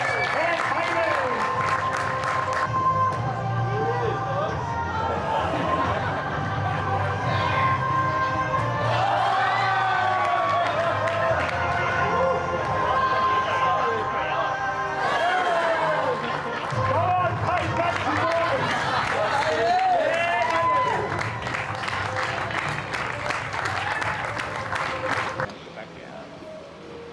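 A large crowd at the IRONMAN 70.3 Geelong triathlon cheers, whistles and claps continuously outdoors, loud and sustained, with excited shouts rising over the applause before it drops off near the end.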